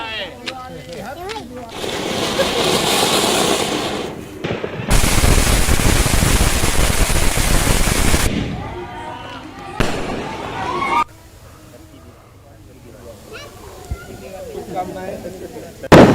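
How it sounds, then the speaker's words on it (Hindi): Firecrackers burst loudly and repeatedly during Diwali celebrations after Lakshmi puja, with children setting them off; dense crackling volleys come in long stretches, with voices and crowd noise around them between the bursts. "छोटे बच्चों ने जमकर पटाखे चलाए।"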